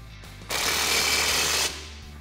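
Short burst of a power impact tool tightening bolts with a 15mm socket on a 2017-2018 Silverado or Sierra upper control arm install, a loud buzzing rattle lasting about a second before cutting off.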